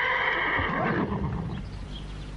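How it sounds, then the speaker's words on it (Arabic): A horse neighs in a long, loud whinny outdoors beside a carriage, the call rising and then fading with no voices over it. "وجدوا الحصان والكروسه"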